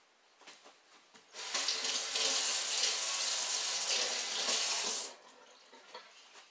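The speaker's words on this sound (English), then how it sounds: "so I'm going to give them a rinse." Onions are rinsed under a running kitchen tap, a steady rush of water lasting several seconds, close and fairly loud, with quiet handling sounds before and after.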